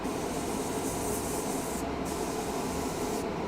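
An airbrush fed by an air compressor at about 5 PSI sprays Cyberite green paint in a steady close hiss of air, with no talk over it.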